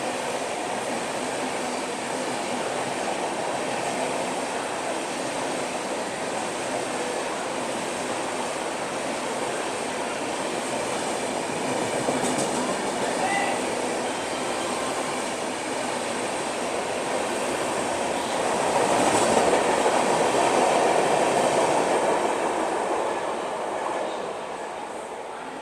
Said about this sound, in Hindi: आ गई अपनी हावड़ा राजधानी एक्सप्रेस। अपन लोगों को ओवरटेक कर रही है यहाँ पर टूंडला जंक्शन के मेन लाइन प्लेटफॉर्म से